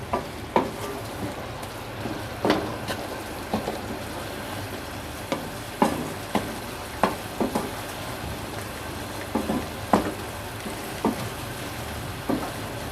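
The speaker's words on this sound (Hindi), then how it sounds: "अब इस मसालों के साथ कीमे की हम बुनाई करेंगे" Minced meat fries and is stirred in achar gosht spice masala for achari keema karela, with a steady sizzle broken by repeated sharp scrapes and clinks of a spoon against the pan, close and moderately loud.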